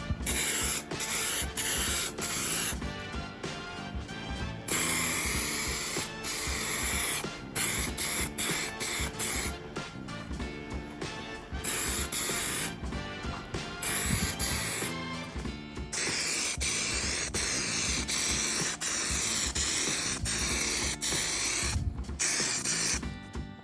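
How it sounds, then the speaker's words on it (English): Aerosol can of 3-in-1 primer spraying thin coats onto a Roban MD-500E 800-size RC helicopter, heard as repeated loud hissing bursts of varied length, separated by short pauses and rattles, with no talking. "So right now what I have is a 3-in-1 primer, trying to get everything one color"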